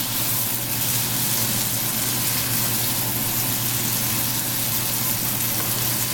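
Okra fried and stirred into a masala in a wok gives a steady, loud sizzle with a continuous hiss and no talk over it.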